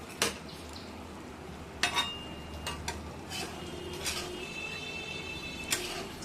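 Chicken being stirred and sautéed in a pan for a long while, with sharp metal-on-pan scrapes and clinks of a spatula at irregular intervals over a low background hiss.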